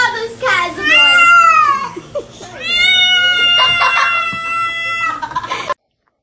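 Cats yowling loudly in a run of drawn-out, wavering cries, close and insistent, with a voice talking over them.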